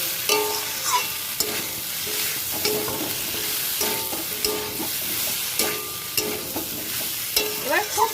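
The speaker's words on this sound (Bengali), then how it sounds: "এবার খুব ভালো করে মশলাটা কষিয়ে নিতে হবে" Spice masala being sautéed in a pan for a young jackfruit and prawn curry with potatoes, a steady frying sizzle broken by regular scraping strokes of a spatula, close and clear with no talking.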